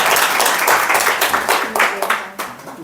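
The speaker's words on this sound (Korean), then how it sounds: "박수 한번 해. 박수." A church congregation claps in a burst of applause, dense close hand claps that swell and then thin out into scattered claps over a few seconds.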